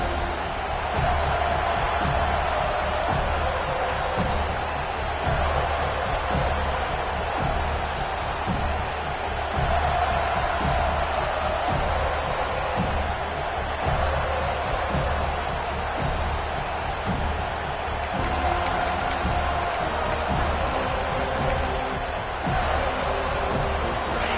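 A large home crowd at an American football game roars steadily throughout, a dense sustained wall of cheering and noise that swells slightly at times.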